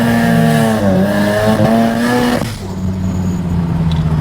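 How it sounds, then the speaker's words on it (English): A turbocharged car with an 8HP automatic transmission makes a half-throttle pull, its engine droning loud and close with rising pitch through quick gear shifts, then easing off as the throttle lifts and the tone drops. "we're gonna do like a half throttle pull now, still in auto mode"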